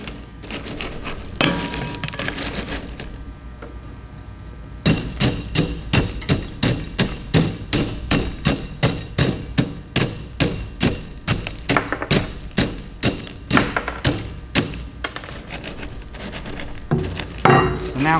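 Aggregate is rodded in a metal measuring container for an ASTM C29 test: a long, regular series of sharp clinking thuds, close and fairly loud, each stroke distinct, with rattling gravel between strokes and no speech.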